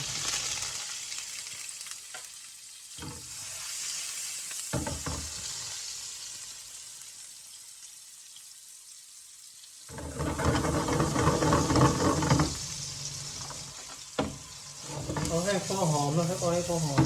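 Shallots and garlic stir-fry in a pan, crackling and sizzling in bursts with spoon scrapes, the hiss swelling loudly after a quieter start while someone talks.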